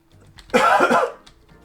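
A single close, hoarse cough bursts out briefly in an otherwise quiet space.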